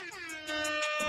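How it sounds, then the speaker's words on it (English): A loud, sustained air horn blast with a rich stack of harmonics, holding steady for about a second and swelling slightly partway through. "I wish I could crank those air horns a little higher."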